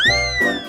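A single short cat meow, loud and close, rising then falling in pitch and lasting under a second.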